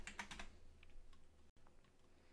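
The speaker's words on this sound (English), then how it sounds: "Next, we type project." Quick clusters of keystrokes on a computer keyboard, a short burst of clicks followed by a few scattered taps, faint and close in a quiet room.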